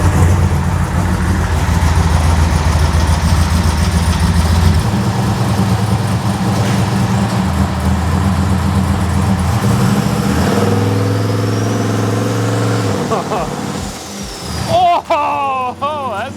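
A Foxbody car fitted with a massive turbo, built to 1000 hp, rumbles at a loud, steady idle nearby, then shifts pitch with rising revs and rough, irregular bursts toward the end.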